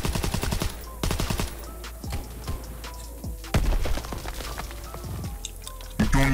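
Gunfire in Call of Duty WW2 sounds as short bursts of rapid shots near the start and end of the clip, with scattered single shots between them over steady background game noise.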